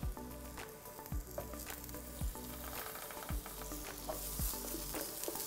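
Mushrooms frying in butter with fresh thyme in a pan give a steady close sizzle, with occasional stirring knocks and scrapes throughout and no voices.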